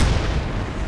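Explosion in the video game Crysis, a loud low-frequency boom rumbling across the whole moment with no voices.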